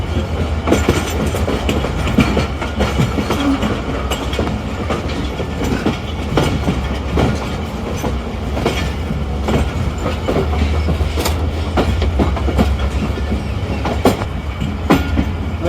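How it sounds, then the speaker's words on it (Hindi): Vintage locomotive hauling the Karachi Express passes close by with a steady, loud rumble and rhythmic clickety-clack of wagon wheels over rail joints, continuous throughout with no talk. "beautiful vintage sound, vintage locomotive का विंटेज साउंड है यार"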